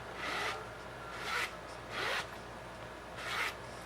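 A Louis Vuitton bag's interior zipper is pulled back and forth several times, smooth raspy strokes with short pauses between them, close up.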